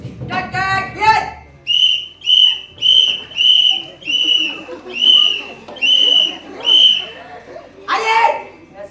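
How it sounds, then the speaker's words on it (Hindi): A whistle blown by mouth gives about seven sharp, regular shrill blasts in quick succession, loud and close, with voices heard just before and after the blasts. "अपने मुंह से सीटी हटाओ, ये मेरा ऑर्डर है।"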